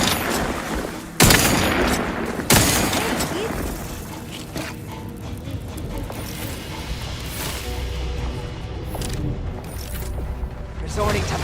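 Gunfire in The Outer Worlds 2, a couple of sharp booming shots followed by chaotic combat noise and mechanical clatter, loud and mixed with game voices.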